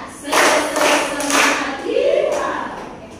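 Students in a classroom clap a rhythmic spirit clap, a few quick bursts of group clapping mixed with voices chanting along.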